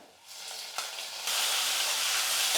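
Chopped onion and tomato fry in a pan in a home kitchen with a steady, bright sizzle. After a brief stir the sound grows louder and then holds as a continuous close hiss, with no talking.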